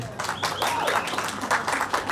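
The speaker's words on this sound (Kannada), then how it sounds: "ಜೋರ ಚಪ್ಪಾಳೆ ಬರಲಿ ಸೂತ್ರಧಾರ ಟೀಮ್ಗೆ" An audience applauds a celebrity show team in a dense burst of clapping that continues steadily throughout, with some crowd voices mixed in.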